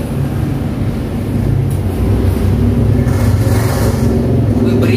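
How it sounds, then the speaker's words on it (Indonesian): A motorbike engine drones loudly and steadily nearby, a rough, continuous rumble that builds slightly over the few seconds. "Berisik motor"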